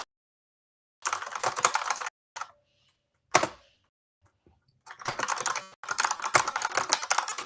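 Someone types on a computer keyboard in several quick bursts of close, clicky keystrokes, separated by short silent pauses and a single louder tap.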